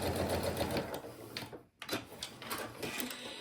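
Sewing machine stitching a seam with a steady close mechanical whir, a brief stop partway through, then stitching resumes with light clicking.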